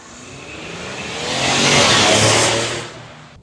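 A 2025 Ford Explorer ST SUV pulls away, its engine note swelling to a loud, rising roar mid-clip before easing off, with no talking over it.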